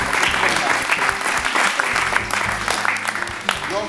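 An audience at a Téléthon charity event applauds steadily and loudly, a dense continuous clapping that fills the whole stretch, with a voice faintly audible underneath.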